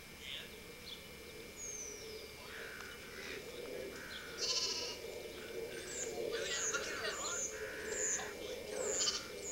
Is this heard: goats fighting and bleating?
yes